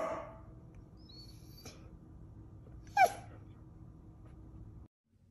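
A male pet dog reacts after its owner barks at it, giving soft, faint whimpering and snuffling close by, with one sharp brief burst midway before the sound cuts off.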